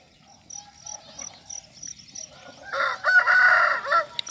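Chickens and a rooster in a farmyard by the fields in the morning: soft insect chirps repeat at first, then a rooster lets out one loud, drawn-out crow close by.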